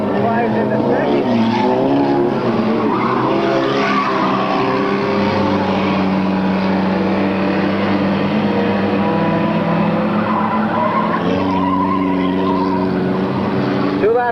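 Race cars roar around a short track in a 1998 race, engines droning and shifting in pitch as they pass, loud and continuous beneath an announcer's commentary.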